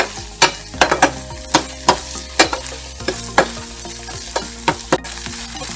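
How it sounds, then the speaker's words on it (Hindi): Ginger garlic paste and onion frying in a pan for masala Maggi, with steady sizzling under repeated sharp clinks and scrapes of a spoon stirring against the pan. "तो चलिए इसको हल्का सा गोल्डन कलर आने तक हम अच्छे से पका लेते हैं।"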